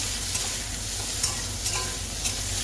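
Ridge gourd fries in a pan while being stirred, a steady moderate sizzle broken by a few soft scrapes of the spoon against the pan, with no voices.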